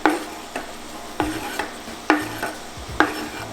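Mushrooms cooking with onions, garlic, rosemary and butter in a pan are stirred about every half second, with a utensil scraping and clinking over a soft sizzle and no voices.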